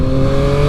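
A 2021 Yamaha MT-09 SP motorcycle engine pulling hard in third gear, a loud, steady close-up drone with strong sustained tones and no speech over it.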